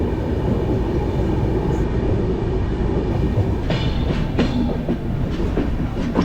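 The Sampark Kranti Express rolls along the rails with a loud, steady low rumble from inside the train, broken by a few sharp clacks and rattles toward the end.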